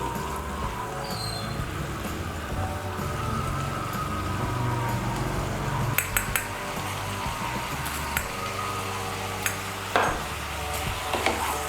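Bottle gourd greens with green chili and salt being stirred in a pan over raised heat, a steady low sizzle with scattered scraping clicks of a spoon against the pan.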